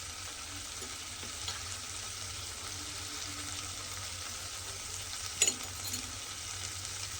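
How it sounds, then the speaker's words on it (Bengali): Raw mustard oil poured into a cooking bitter gourd dish in a pan, giving a steady, soft sizzle throughout with one brief clink of a utensil partway through. "কাঁচা সরষের তেল দিয়ে দিলাম"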